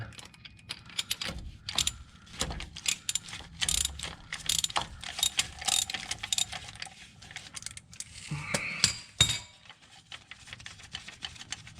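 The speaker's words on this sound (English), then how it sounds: "still gonna use my ratchet." Ratchet turning a nut on a transmission mount under a 1989-1996 Nissan 300ZX, a long run of rapid, close metallic clicks in uneven bursts with occasional clinks of tools, fairly quiet and with no speech.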